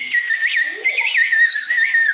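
A child blows a toy candy whistle, giving a shrill, warbling high tone in two long bursts with a short gap between, loud and close with no talking over it.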